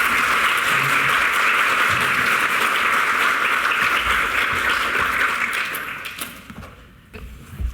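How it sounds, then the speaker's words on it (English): An audience at a ChangeMakers Donegal community event applauds as speakers come up onto the stage, with dense, sustained clapping that tapers off near the end. "Gallagher, Denise McCool, and Patsy Toland, if you give them a wee round of applause to come up onto the stage"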